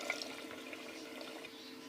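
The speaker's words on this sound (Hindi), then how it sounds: "पानी मैंने डाल दिया।" Water poured into a pan of cooking bottle gourd in a home kitchen, a steady continuous splashing rush lasting about two seconds, close and alone without speech.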